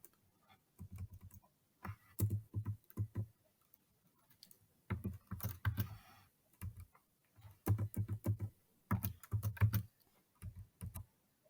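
Someone types a username and password on a computer keyboard in quick bursts of clicky keystrokes separated by short pauses, close and fairly quiet with no voices.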